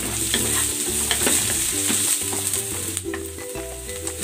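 Onion, star anise and cinnamon bark sizzle loudly in a hot pan for beef pares, a bright steady frying hiss broken by close scraping and stirring strokes.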